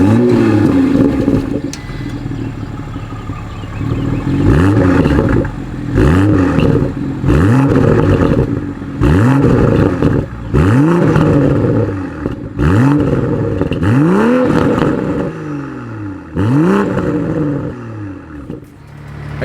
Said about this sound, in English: the sport driving mode is gonna open those valves and give you a much deeper sound